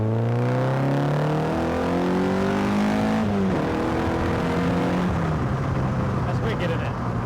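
Kit car engine revving hard and accelerating through rising gear pulls, with a gear change around the middle, loud and close throughout before settling into a steadier drone as it carries on.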